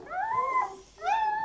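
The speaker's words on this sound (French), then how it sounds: "C'est une belle chienne, hein." A Saintonge hound bitch whines in two drawn-out, rising-and-falling tonal cries with a short gap between them, close and clear.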